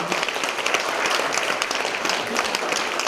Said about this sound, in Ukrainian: Оплески вам.